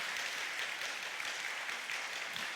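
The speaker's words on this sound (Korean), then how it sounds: "박수로 하겠습니다." A church congregation applauds during a Sunday worship service. The clapping is faint and steady, a soft, continuous patter that lasts the whole moment without a break.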